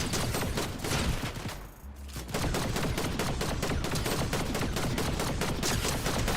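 Rapid, dense gunfire in a Fortnite match, loud bursts of shots firing continuously with only a brief lull near two seconds before the barrage resumes.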